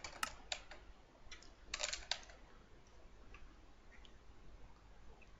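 Someone types on a computer keyboard while playing a modded game, giving short bursts of quiet, close key clicks separated by pauses, with no talking.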